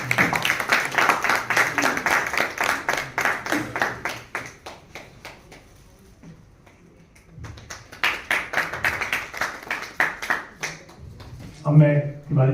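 Dense applause from an audience welcoming a doctor as a guest at an Atal ji jayanti program, with loud, steady clapping for several seconds, a brief lull, then another burst of applause.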